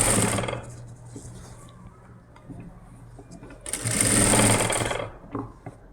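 Sewing machine stitching printed cloth for an umbrella gown, two loud close bursts of rapid mechanical whirring separated by a quieter stretch of faint handling noise.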